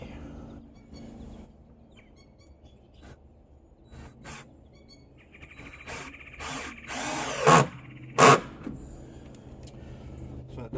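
A power drill drives screws into pressure-treated deck boards outdoors, with quiet handling noise followed by a few short, loud whirring bursts near the end.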